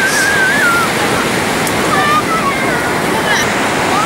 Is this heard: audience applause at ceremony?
no